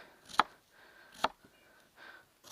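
A knife chopping onion into strips on a cutting board, four sharp separate knocks spaced irregularly, close and clear, with faint rustling between the cuts.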